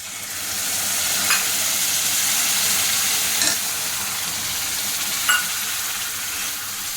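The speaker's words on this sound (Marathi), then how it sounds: "आता आपल्याला दूध टाकायचं आहे" Milk hits hot sheera for Satyanarayan prasad and sets off a loud, continuous sizzle that holds steady for several seconds, broken by three light spoon clinks against the pan. No voices.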